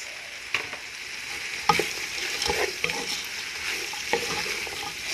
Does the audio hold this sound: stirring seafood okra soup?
yes